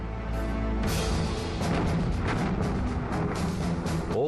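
A loud, sustained explosion strikes the battleship Hood, roaring and rumbling, with a heavy blast that fills the clip without pause.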